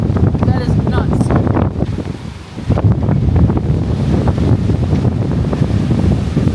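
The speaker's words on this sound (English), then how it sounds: "Look at how the waves are going in different directions." Waves break and churn on a Lake Michigan shore under strong wind buffeting the microphone, loud and close, with people talking over the surf.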